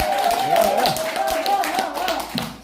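A brief round of audience applause at a lecture, a quick patter of claps swelling and fading under a man's ongoing speech.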